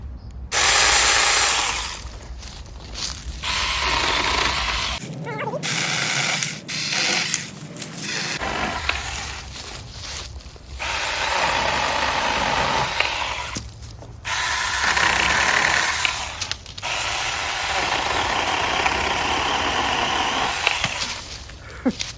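A small Saker 20-volt handheld electric mini chainsaw chews through brush in repeated bursts, a raspy buzzing cut that starts and stops with short gaps between passes.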